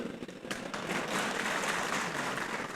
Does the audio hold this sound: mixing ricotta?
no